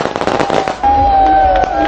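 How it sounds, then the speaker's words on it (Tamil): New Year fireworks at Galle Face, Colombo: a quick cluster of crackling bursts followed by a sustained loud whistling hiss, close and dense. "கொழும்பு காலி முகத்திடலில் இடம்பெற்ற வான வேடிக்கைகள் மக்களை அதிகம் கவர்ந்திருந்தது."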